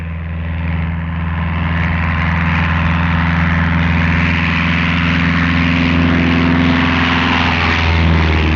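A steady, droning aircraft engine runs loud and close throughout, with a low hum that slowly swells and holds; the scene involves a plane sent to find a route through ice.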